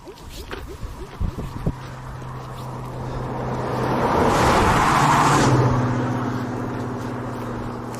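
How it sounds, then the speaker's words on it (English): A car approaches and passes close by on a road in the Navajo Nation, its engine and tire rumble swelling to a loud peak before fading, with a low steady hum and a few footsteps or knocks at the start. "It's when the cars come up, we got to get off onto this."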